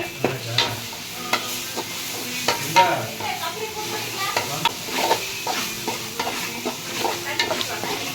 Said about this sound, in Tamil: நல்லா வெங்காயம் வதங்கிடுச்சு. இஞ்சி பூண்டு பேஸ்ட் போட்டாச்சு.